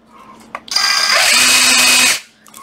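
A Bosch cordless drill in hammer drill mode starts up after a click and runs loud and steady with a rattling, whining hammer action for about a second and a half, then stops abruptly.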